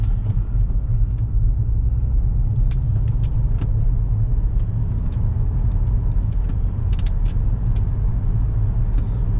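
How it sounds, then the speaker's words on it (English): A Volvo V70 being driven with the handbrake engaged to bed in new rear brake shoes, heard from inside as a loud steady low road and engine rumble with faint scattered rattles and no talking. "we're driving with the handbrake on."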